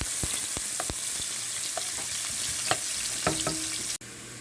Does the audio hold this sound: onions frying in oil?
yes